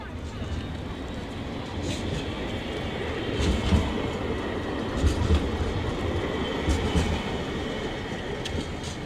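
A Sydney train, set 2115, pulls out of Central Station toward Dulwich Hill with a steady, close rumble and a few rhythmic wheel clacks that swell slightly as it moves off.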